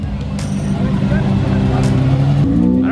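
Lamborghini Centenario supercar engine revving hard, a loud, sustained growl with a rising pitch near the end, heard up close while people talk and shout excitedly over it.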